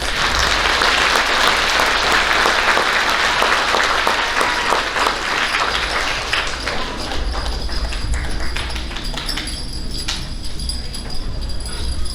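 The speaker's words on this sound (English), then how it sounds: "Let's give these students a round of applause." An audience at an elementary school awards ceremony gives students a loud, sustained round of applause that gradually thins and softens toward the end, with a few scattered claps and taps lingering.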